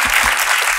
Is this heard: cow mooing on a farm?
no